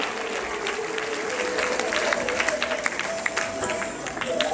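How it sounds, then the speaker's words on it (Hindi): Schoolchildren and guests at a school annual function applaud arriving guests: a steady wash of crowd clapping with a few louder individual claps, heard at moderate distance through a busy hall with faint voices mixed in. "सभी जोरदार तालियों से स्वागत करें आप भी बच्चों।"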